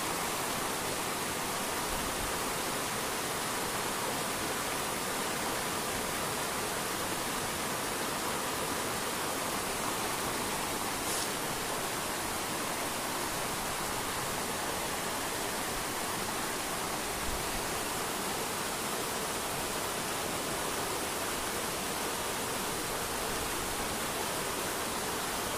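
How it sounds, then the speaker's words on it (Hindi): A swollen river running with heavy water after rain in hilly country, a dense, constant rushing roar that fills the scene from start to finish with no voices or breaks. "फ्रेंड्स नदी में बहुत ज़्यादा पानी आने का कारण आप लोग देख सकते हैं सामने"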